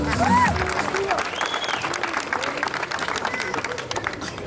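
An audience at an artistic show in Ahuachapán applauds and shouts together, a dense continuous wash of clapping with cheering voices rising above it.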